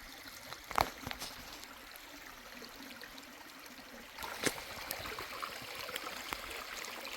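Creek water trickling and flowing along the Pinhoti Trail in a mossy forest, a steady soft babble with no voices, brief brighter splashes near the start and again after the midpoint.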